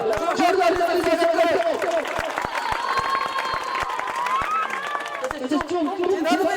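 At a cricket tournament prize-giving for the 2025 season-seven cup, a crowd applauds a player who took five wickets, with scattered claps and cheering mixed with voices talking.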